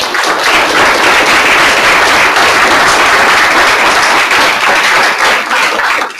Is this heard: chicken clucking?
no